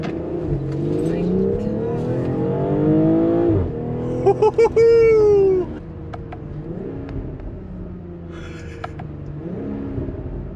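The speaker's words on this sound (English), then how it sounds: "those burbles on the downshift" A 2020 BMW X3 M40i engine revs hard and climbs in pitch under acceleration, then crackles with a short burst of exhaust burbles on the downshift. It is loud and close, as heard from inside the cabin, with no talk.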